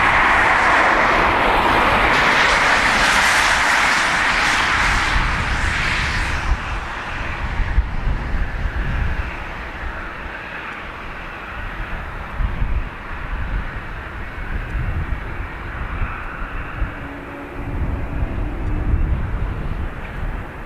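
A fixed-wing airliner landing at Dublin Airport, its loud broadband engine roar dominating the first seven seconds, then fading to a lower rumble with wind buffeting, no talk.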